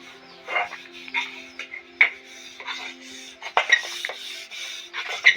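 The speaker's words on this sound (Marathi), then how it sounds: "आई भांडी घासते" Dishes, pots and utensils being scrubbed and washed outdoors behind a village house in Konkan, with intermittent clinks, knocks and scraping over a steady backdrop of outdoor creature calls.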